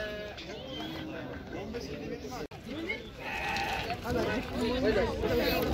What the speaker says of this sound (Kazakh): Альпийский ешкі дейді. 2 лағымен 70 мың.